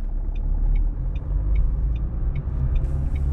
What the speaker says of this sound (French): je relève l'embrayage, j'accélère.